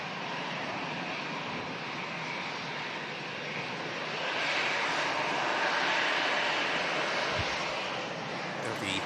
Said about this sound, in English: It'll be Helvetic now. E190 on the departure roll.